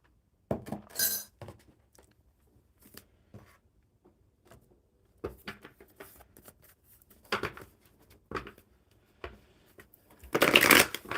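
Playing cards are shuffled in several quick riffling bursts with pauses between, the last burst loudest and longest, recorded close during a live coffee-club card reading.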